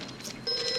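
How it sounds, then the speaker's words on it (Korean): A payphone outside a restaurant at night starts ringing, a bright electronic ring cutting in partway through over quiet background, close and clear with no voices. "공중전화로 전화가 걸려옵니다."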